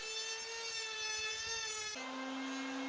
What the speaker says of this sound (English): I level the sides with the help of a router